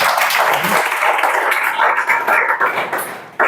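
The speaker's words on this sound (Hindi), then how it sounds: "ताली बजा के एक स्वागत करके" A group in a coaching class for police recruitment exams claps in welcome: dense, sustained applause that stays loud and even for several seconds before tapering slightly at the end.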